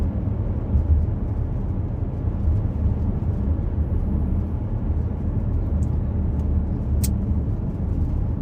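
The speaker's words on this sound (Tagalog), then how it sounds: "Gandang kotse, sports car," A Porsche sports car on a road in Riyadh drives past with a steady, loud low rumble of engine and tyre noise that holds throughout, a faint chirp near the end.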